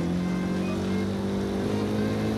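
A car accelerates in the Forza Horizon 2 racing game, its engine holding a loud, steady, rising drone the whole time with no one talking.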